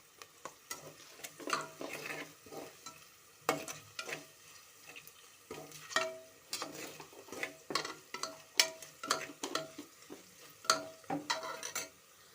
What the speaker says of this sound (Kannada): ಸ್ವಲ್ಪ ಅರಿಶಿನ ಪುಡಿ ಮೇಲೆ ಸ್ವಲ್ಪ ಫ್ರೈ ಮಾಡ್ಕೊಳ್ಳೋಣ